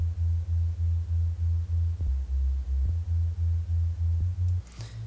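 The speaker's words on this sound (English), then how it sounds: "what this is going to sound like is just a very vibrato-y sine wave." A detuned synth sine wave for a Reese bass in FL Studio, from two slightly mismatched oscillators, produces a low, steady tone that throbs in a regular pulsing vibrato, loud and alone, ending with a brief pitch shift.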